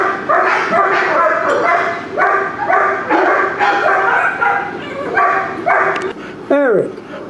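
Dogs bark repeatedly in loud, rhythmic bursts at a Miami dog-training facility, with a high whine or yip near the end, while people talk over and between the barks.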